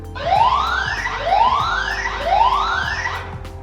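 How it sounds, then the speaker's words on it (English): A loud alarm siren whoops in three repeated rising sweeps, about one per second, harsh and electronic, played back close by through a Samsung SmartCam SNH-V6410PN security camera speaker. "We can play an alarm siren."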